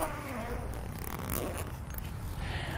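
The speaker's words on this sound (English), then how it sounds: "we can come to the zipper and unzip it all the way" Zipper on the PVC cover of a Rhino-Rack Batwing awning, mounted on crossbars of a 2013 Jeep Wrangler, drawn open in one long continuous rasping pull, close and clear with no talk.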